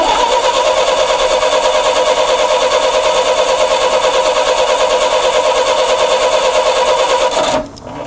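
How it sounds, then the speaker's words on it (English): A Chrysler Slant 6 generator engine fitted with Holley Sniper EFI cranks steadily and loudly for about seven seconds at full throttle without catching, then the cranking cuts off abruptly. "So it went right to full throttle and it didn't start."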